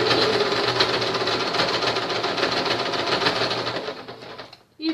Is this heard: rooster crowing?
no